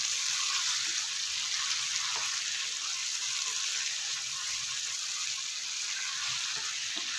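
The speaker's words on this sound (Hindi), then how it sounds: "हाई फ्लेम पे इसको अच्छे से भून लेना है।" Mutton for mutton karahi fries over a high flame: a steady, crackling hiss carries on for several seconds with faint stirring clicks, close and even, with no talk over it.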